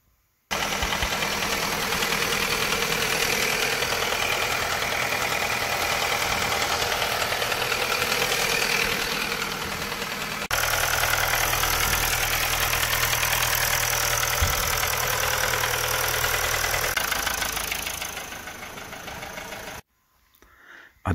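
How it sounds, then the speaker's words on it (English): A Mazda Skyactiv 2.2 diesel engine idling close by with a steady, rapid knocking or ticking layered over the low running hum, continuous for most of the take before dropping away near the end. "the noise is a bit more audible on the top of the engine"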